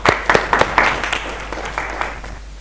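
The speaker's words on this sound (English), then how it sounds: "Let's clap for him" A university bootcamp audience claps for a professor, with a few sharp, scattered claps up close that quickly thin out and fade over a couple of seconds.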